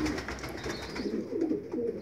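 Pigeons feeding squabs coo softly and repeatedly at close range, a low, throaty pulsing sound that continues through the short stretch.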